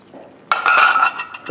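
Stock pours into a pan of shrimp and mushroom risotto as a final addition, a sudden close splash starting partway in and continuing as a steady liquid rush with faint stirring clinks.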